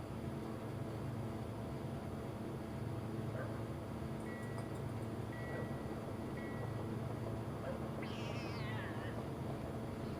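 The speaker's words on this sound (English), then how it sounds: "cat being super pissed off in the background there." An angry cat in the game Quantum Break yowls faintly in the background of a busy, droning game soundscape, with a rising caterwaul near the end over a constant low rumble.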